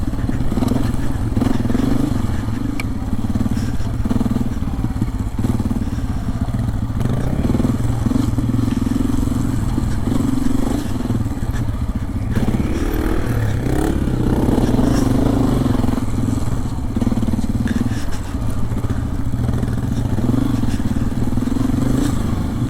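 Honda CRF250F dirt bikes riding slow, tight rocky single track on moist dirt with bald DOT tires, engines loud and continuous with throttle blips, clatter and scraping over rocks, close up throughout.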